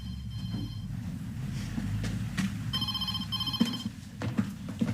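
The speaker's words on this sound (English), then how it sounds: "I think it's a phone call." A telephone rings in two separate bursts of bright, repeated trilling, heard over a low background rumble.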